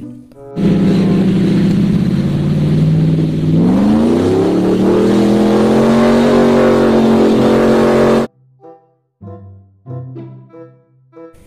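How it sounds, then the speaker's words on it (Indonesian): An off-road car engine revs loud and steady, its pitch climbing partway through, then cuts off into a few short, quieter bursts of engine sound. "Wadidaw, lihat ada mobil off-road."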